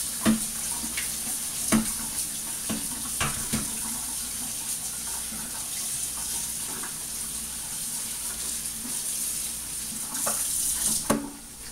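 Jackfruit rinsed under a running kitchen tap, a steady close wash of water with several sharp clatters and knocks as the fruit is handled in the sink.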